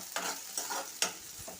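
Okra pieces fry in a pan with a soft, steady sizzle, broken by a few brief stirring scrapes. No one speaks.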